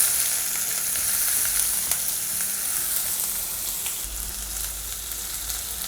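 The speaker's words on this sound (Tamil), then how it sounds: "இந்த வெங்காயம் நல்லா வதங்குற அளவுக்கு வதக்கிடுங்க" Chopped onions and curry leaves fry in hot oil in a pan for tomato chutney, giving a continuous, even sizzle that crackles softly throughout with no voices over it.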